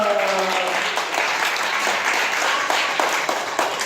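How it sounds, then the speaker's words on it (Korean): A crowd claps in sustained applause, dense and even from start to finish, with no voices rising above it. "박수!"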